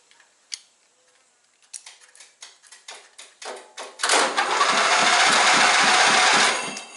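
A John Deere Sabre lawn mower engine cranks over in a run of rhythmic, chugging turns after a few clicks, ending in a louder sustained whirring stretch, close by with no talking.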